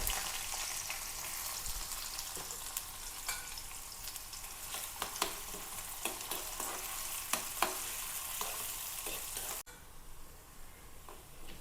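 Onions sizzle steadily in hot oil after mustard seeds, with occasional pops and stirring scrapes, close by and moderately quiet throughout.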